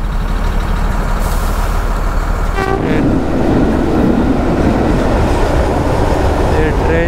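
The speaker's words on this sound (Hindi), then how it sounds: "ट्रेन जा रहा है यार" A fast train rushes past close by, giving a loud, continuous rumble and clatter of wagons, with a brief screech partway through and voices faintly underneath.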